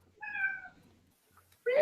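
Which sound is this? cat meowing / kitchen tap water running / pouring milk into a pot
cat meowing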